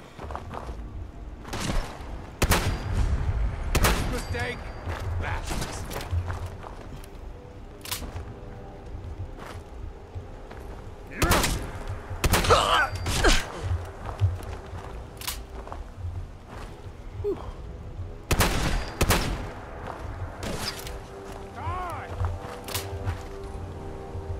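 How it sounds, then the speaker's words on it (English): Loud, close shotgun blasts from a Fallout 4 firefight come in scattered clusters of sharp broadband bangs over a noisy game background, with a voice talking between shots. "the shotgun's pretty good at these close quarters combat stuff"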